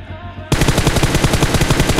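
Loud, rapid automatic gunfire from PUBG Mobile, a sustained burst of close shots that bursts in after a quieter half-second and keeps going at an even rhythm to the end.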